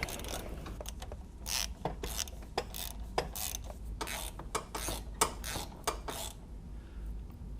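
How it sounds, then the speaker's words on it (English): Wrench with a 10mm socket on long extensions loosening a bolt, giving a rapid series of close metallic ratchet clicks in bursts, with no talk. "I'll just slide the wrench up on in there and then start loosening it."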